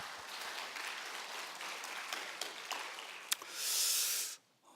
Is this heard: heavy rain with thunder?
no